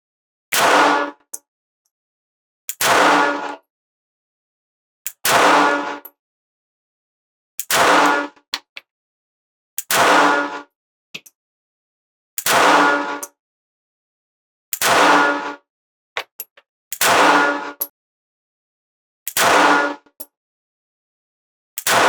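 A Springfield Hellcat .380 pistol fires a 12-round magazine at an outdoor range, sharp loud cracks spaced roughly two to three seconds apart, about ten in sequence, with near silence between them.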